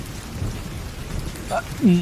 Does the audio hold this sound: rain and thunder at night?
yes